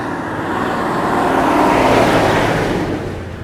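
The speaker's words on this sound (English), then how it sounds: "Even up here, you still have the buses coming around" A bus climbs a mountain road in Sri Lanka, its engine a steady, fairly loud rumble that swells toward the middle and eases off again as it rounds past, with no talk.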